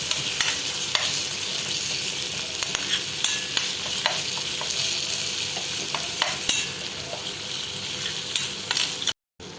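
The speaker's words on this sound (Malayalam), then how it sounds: "ഒന്ന് നന്നായിട്ടൊന്ന് തിളയ്ക്കണം ഇതിലേക്ക് എടുത്തു വച്ചിരിക്കുന്ന ഒരു കഷ്ണം ശർക്കര അതും കൂടെ ഒന്ന് ഒന്ന് അലിയിച്ചെടുക്കണം" Kerala injikkoottu, a ginger mixture with jaggery melting into it, bubbles steadily in a pan while a spoon stirs it with scattered clicks and scrapes, close and continuous until a brief cutoff near the end.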